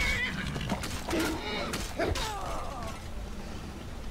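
A horse in the video game Skyrim whinnies and neighs with a few short cries over creaking gear and game sounds, while someone talks throughout.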